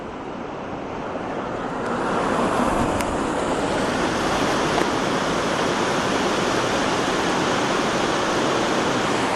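Steady river water flowing beside a riding route, a continuous broadband rush that swells after the first two seconds and then holds loud and even, with no talk.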